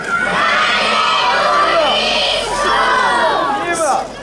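A crowd of children shouts together at an outdoor award ceremony for painting, loud sustained cheering and yelling in several rising waves that fill the whole stretch.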